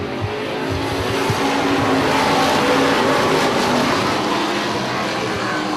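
Street stock race cars roar around a track as a race starts, a dense, loud, continuous blend of engines close by with no break and no audible talk.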